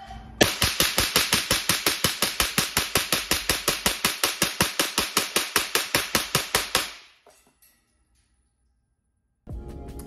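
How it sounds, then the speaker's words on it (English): A rifle with a Strybog upper, A3 tactical lower and Landtech trigger dumps a full magazine: about thirty loud, evenly spaced shots in a fast rhythm, then sudden quiet before faint noise returns. "A3 tactical lower, Landtech trigger on the Strybog upper. It's mag dumping."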